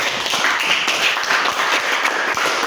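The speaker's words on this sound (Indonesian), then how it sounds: "tepuk tangan dulu untuk semua" Classroom applause from a group of students, dense continuous clapping that fills the whole stretch at a steady level without pause.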